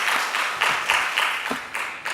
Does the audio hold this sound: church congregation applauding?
yes